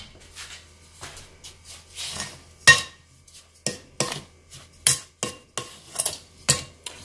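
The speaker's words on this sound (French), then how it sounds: "Je vais mélanger." A utensil stirs cake batter with sugar and vanilla sugar in a bowl, giving a steady run of close scraping and clinking knocks against the bowl's sides, some sharper than others, with no talking.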